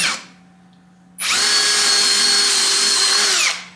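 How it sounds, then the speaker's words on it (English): A power drill with a long bit whirs up suddenly and runs at a steady high pitch for a couple of seconds as the bit bores at an angle into a wooden guitar body, then winds down. "I just have a very long drill bit, and I'll come in at an angle here"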